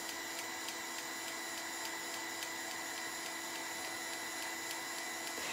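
Heat tool drying gesso on a fabric strip, a steady loud whooshing blower hum with a high whine, continuous and unbroken throughout.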